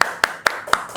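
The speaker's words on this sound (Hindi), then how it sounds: "तालियां हो जाए" Four sharp, evenly spaced claps in a quick burst from podcast hosts, close and dry, like a brief round of applause in a studio.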